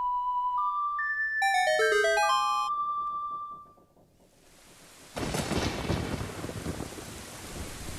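Thunder in the Ocarina of Time video game, a loud crackling rumble bursting in after a chiming musical melody and continuing with a heavy rain-like roar.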